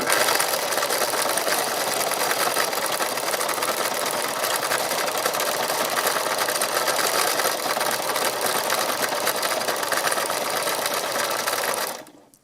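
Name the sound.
sewing machine doing free machine embroidery on fabric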